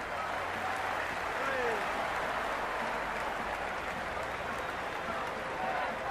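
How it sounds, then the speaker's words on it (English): A large cricket stadium crowd at an IPL match between Punjab Kings and Gujarat Titans roars and applauds in a steady, continuous wash of noise, with no breaks in the cheering. "Will you listen to that crowd? They are loving this."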